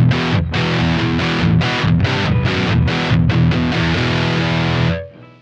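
Distorted electric guitar chords through a Two Notes ReVolt amp with its Synergy preamp bypassed, loud rhythmic strummed bursts with short gaps, ringing out and cut off at the end.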